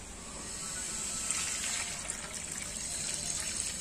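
Squid is rinsed and rubbed clean under a running kitchen tap, a steady hiss of flowing water with small splashes and trickles as the flesh is scrubbed, no voices over it.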